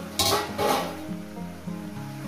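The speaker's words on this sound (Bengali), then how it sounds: "মাঝে মাঝে ঢাকা তুলে একটু নেড়ে দেবো" Vegetable chorchori frying in a covered pan, stirred briefly with a couple of scraping bursts of sizzle near the start, then a steady low crackle with a faint hum underneath.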